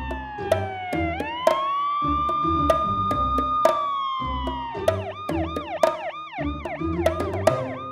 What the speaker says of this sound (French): la voiture de police. Elle est si belle avec sa sirène.